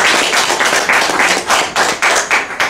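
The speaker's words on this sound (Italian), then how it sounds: "bella applauso" Audience applause at an event honoring painter Bruno Mancini, close and loud, with a rhythmic run of distinct, punchy claps repeating at a quick, fairly even pace.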